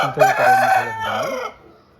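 An 11-month-old rooster crows once, loud and close, a long strained call that trails off into quiet.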